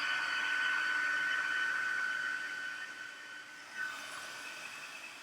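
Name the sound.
heat gun melting embossing powder on card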